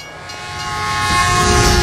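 A train in the video game Hitman Absolution rumbles past close by, loud and continuous, its roar and rattling wheels swelling steadily throughout with a tonal, horn-like ring over the noise.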